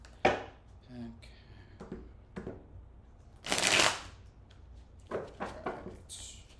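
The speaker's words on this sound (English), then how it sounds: "I'm gonna shuffle 2 more times, and then I'll cut" Tarot cards being shuffled by hand, a series of short crisp riffles and taps with one longer rippling shuffle near the middle, close and fairly quiet, with faint voice traces between bursts.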